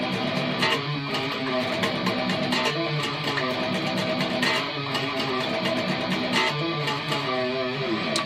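Distorted electric guitar chugging through a song's verse riff in the higher octave, alternating off the open sixth string with rapid palm-muted picking and accented hits, loud and continuous without talk.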